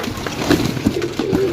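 Pigeons coo in short soft throaty bursts at a pigeon flying competition in Bhowanj, Sarai Alamgir, Gujrat, several calls repeating close by over low background murmur.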